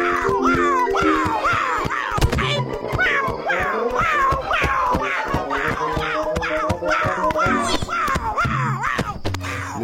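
A frightened cartoon cat meows over and over from inside a sack, loud repeated rising cries in a steady rhythm over background music.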